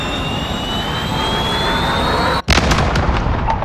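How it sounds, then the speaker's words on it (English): A cruise missile blast in Call of Duty: Modern Warfare: a high jet-like whine runs steadily, then cuts out abruptly before a sharp, loud explosion that rumbles and fades over the final second. "Cruise missile away."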